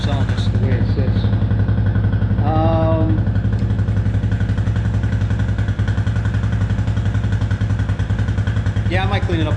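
A 2004 Suzuki LTZ250 ATV engine runs steadily at close range, a loud, constant throbbing idle through the whole clip, with someone speaking briefly over it.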